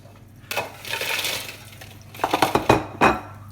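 Crisp, clattering rustle of triple-cooked chips tumbling into a bowl, one pour followed by a few sharper knocks and scrapes.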